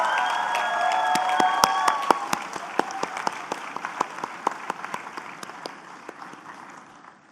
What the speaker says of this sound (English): I would like everyone to please join me in a round of applause for ourselves and for everyone who helped us